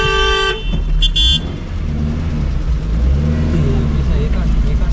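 A Maruti Eeco van rolls along a road with steady engine and road noise throughout, a short honk near the start, and people talking inside over the drone.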